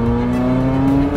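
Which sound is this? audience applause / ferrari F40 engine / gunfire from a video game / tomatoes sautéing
ferrari F40 engine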